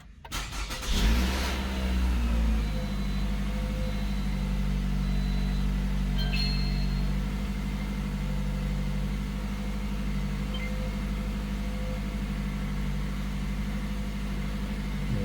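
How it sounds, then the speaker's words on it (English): Engine of a 2017 Toyota RAV4 idling steadily with a low, even hum after a brief rise in revs at the start, while the transmission is cycled through its gears; a faint click sounds midway. "Now we're gonna cycle the transmission through all the gears."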